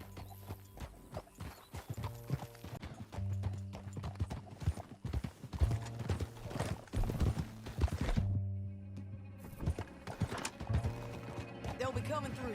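In Red Dead Redemption 2, horse hooves clop in a steady galloping rhythm close by, with a whinny and some mechanical clicks, while voices talk over the ride.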